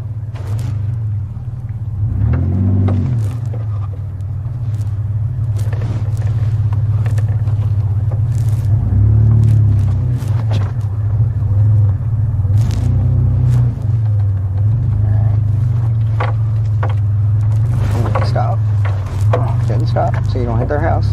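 A car rolls backward into a driveway during a three-point turn, its steady engine hum and low rumble running throughout while a driving instructor and a learner driver talk over it.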